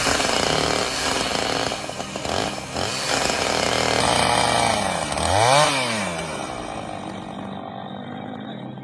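A professional logger cutting massive trees with a chainsaw: a loud, close engine whine rising and falling with the cut, then easing off toward the end.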